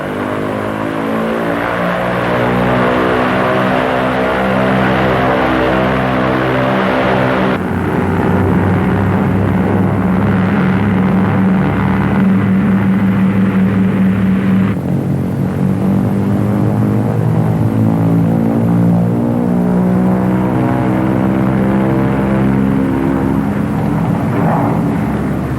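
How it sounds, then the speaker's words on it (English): Twin engines of a Lockheed P-38 fighter run up on the ground with toe brakes held and throttles advanced, a loud continuous propeller drone that steps up in pitch partway through. "Booster pumps on, toe brakes held, throttles advanced to get maximum allowable manifold pressure."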